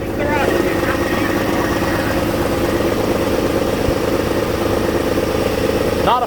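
A Dodge D150 pickup engine idling in a yard, a steady low rumbling drone that holds constant and close throughout, with a brief voice near the start and end.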